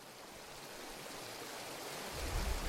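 Water of a creek in West Virginia rushes in a steady broadband wash that swells slightly near the end, with no voices.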